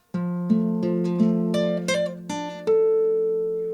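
A guitar chord picked out note by note, each string ringing into the next, ending on a sustained higher note that lets the full chord ring out.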